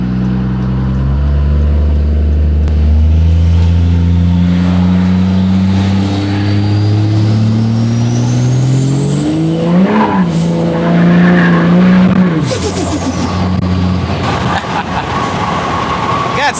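A tuned 5.9 Cummins diesel pickup pulls hard on tune 4, its loud engine note climbing steadily as it accelerates, with a sharp tire squeal near the end as the truck goes sideways.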